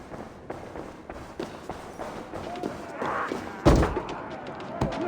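Heavy thuds and slams strike a door being forced open in a video game, with footsteps and voices around and one louder bang near the end.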